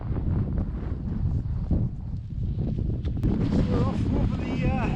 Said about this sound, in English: Absolutely freezing, really windy,